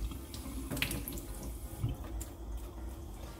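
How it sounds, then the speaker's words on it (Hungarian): Tap water runs steadily into a sink while hands are wetted during cookie making, giving a close, continuous splashing rush with a few brighter splatters. "I just take a spoon and I'll wet my hands."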